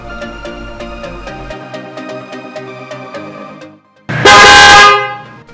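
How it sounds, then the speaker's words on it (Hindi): Windtone pressure horns fitted to a Hero Splendor motorcycle sound one long, loud honk after a stretch of steady rhythmic engine ticking. "इसमें हमने प्रेशर हॉर्न इंस्टॉल कर रखे हैं"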